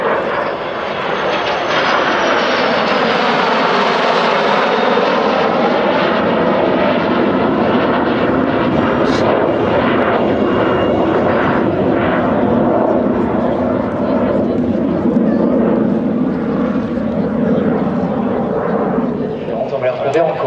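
A PZL-Mielec Lim-2, the Polish-built MiG-15 jet fighter, flying a display at Villaroche airfield, its loud continuous jet roar sustained and broadband throughout, rising and shifting slightly as it passes, with no voices over it.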